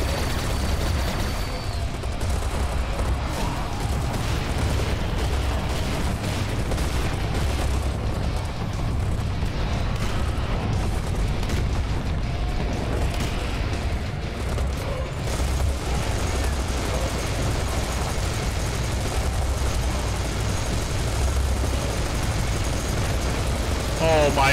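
Continuous game gunfire and explosions from Serious Sam 4, a dense loud barrage of shots and booms running throughout, with a voice talking over it at times.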